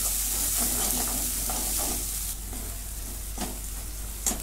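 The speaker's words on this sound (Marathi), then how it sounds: "आता हे दोन्ही मी चांगलं भाजून घेते." Coconut and coriander paste roasting in a hot pan, a steady sizzling hiss with light stirring scrapes, fairly close and constant, easing slightly partway through with a brief clink near the end.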